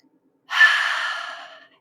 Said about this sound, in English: let's take 3 breaths in through the nose